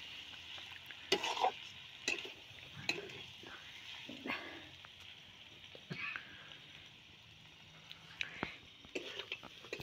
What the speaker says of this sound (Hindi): इधर मसाला सब भुंजा रहा है अभी